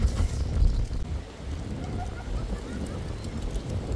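Strong wind at the Statue of Liberty in New York City buffets the microphone with a steady low rumble and roar, gusting throughout with no voices.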